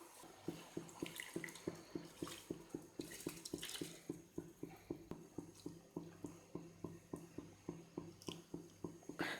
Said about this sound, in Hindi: अब इसका पानी मैं निकाल देती हूँ और उबलते हुए पानी में चावल ऐड करती हूँ